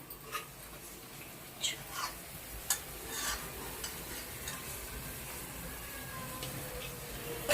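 Broad beans (chikkudukaya) frying in oil over a low flame give a soft, steady sizzle with scattered light pops and clicks, fairly quiet throughout.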